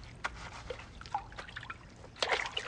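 Water pours and trickles during a hair wash with coconut-scented shampoo, a soft irregular dribbling with small splashes that builds to a brighter, louder gush near the end; no talk.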